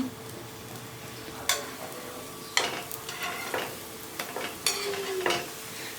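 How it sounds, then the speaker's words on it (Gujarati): Gujarati masala bhakhri flatbread roasts in ghee on a pan, giving a soft, steady sizzle with several sharp scraping and clinking strokes as the breads are pressed and turned, close and fairly quiet. "બરાબર આવી રીતે આપણે ઘીની મદદથી શેકી લેવાની અને હવે આપણે ફરી ફેરવવાની"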